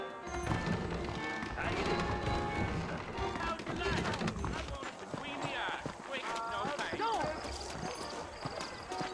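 Horse hooves clatter along a trail in Red Dead Redemption Remastered on PC, a running beat kept up under music and other game sounds, with speech-like voices mixed in.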